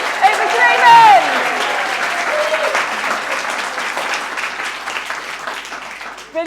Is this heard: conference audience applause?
yes